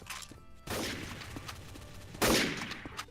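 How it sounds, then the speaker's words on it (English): Gunfire in GMod Trouble in Terrorist Town: a burst of game weapon shots with sharp cracks and dense clattering bursts, two louder volleys over a busy background, fairly quiet overall. "Levi's shooting at me!"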